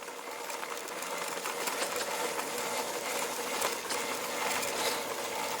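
A Honda XR650L motorcycle running in eco mode on a wet woodland trail, giving a continuous busy mechanical rattle and clatter with a steady engine drone throughout and no voices.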